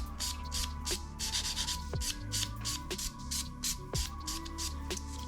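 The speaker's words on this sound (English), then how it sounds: "I'm just going to go over with my Elite Buffer." A 100-180 Elite buffer rubs over fingernails in quick, close, regular strokes. The rasping repeats steadily with a stronger pass about every second.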